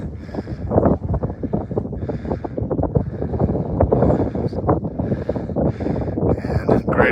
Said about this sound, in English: we've got the wind blowing the sand right off the edge of the dune